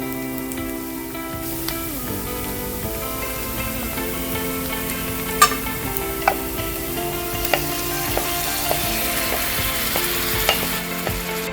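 Prawns hitting a pan of hot ghee and onions for a Mangalore-style prawn ghee roast, giving a steady close sizzle with scattered sharp clinks and scrapes from stirring throughout; no one speaks.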